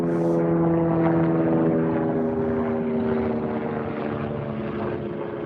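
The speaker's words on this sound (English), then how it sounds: "Helicopter, helicopter." Steady droning rotor and engine hum of an aircraft, loud and continuous, fading slightly over a few seconds.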